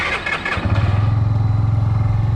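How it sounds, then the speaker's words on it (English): A 2022 CF Moto Papio motorcycle cranks briefly with a whirring starter, then catches and settles into a steady, close, rhythmic idle with a low pulsing thump. "Okay, so this is the first start of the day."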